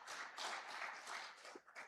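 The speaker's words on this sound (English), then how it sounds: "Another round of applause for her," Audience at a medical and dental practitioners' annual general meeting gives a brief, fairly quiet round of applause, a soft wash of clapping heard from some distance.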